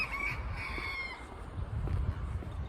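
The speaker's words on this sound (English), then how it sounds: "God, I love those chickens." Chickens and a rooster in Lahaina on Maui, a rooster crowing nearby in a drawn-out call over soft clucking and outdoor background noise, with no talk.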